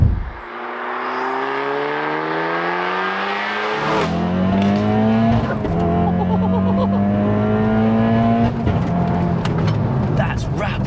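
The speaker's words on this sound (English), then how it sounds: "I think we'll hop in, get it started up." A 460bhp hybrid-turbo Audi S1 accelerates hard from inside the cabin, with a loud, rising engine note that climbs through the rev range, drops sharply at each gear change and climbs again, while voices talk over it.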